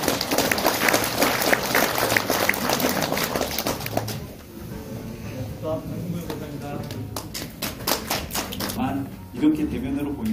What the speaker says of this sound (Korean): 뜨거운 박수로 맞이해주시면